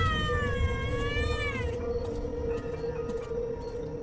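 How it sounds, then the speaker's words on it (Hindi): A cat meows in a drawn-out, wavering cry near the start, then fades, leaving a steady low hum and background noise for the rest of the stretch. "और ऐसा करते हैं बिल्ली वहां से भाग गई।"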